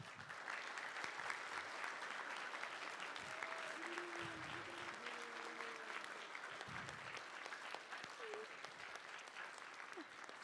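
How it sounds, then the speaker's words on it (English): A church congregation at a Wednesday evening service claps for its seniors: sustained, fairly distant applause from many hands, with a few voices calling out over it. "so we can just give you an extra special clap."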